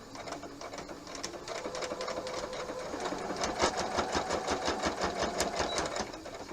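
A sewing machine stitches through the start of a seam on a table-setting project and then backstitches, a steady rapid mechanical chatter running close and continuous for several seconds with a slight change in pace partway through.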